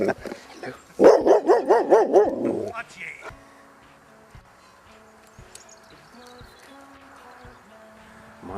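Several dogs bark in a quick, excited volley close by for about two seconds in Ashdown Forest, East Sussex, then the scene falls quiet with faint outdoor sounds and occasional yips.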